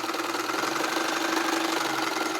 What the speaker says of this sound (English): And of course I can go even faster with this machine.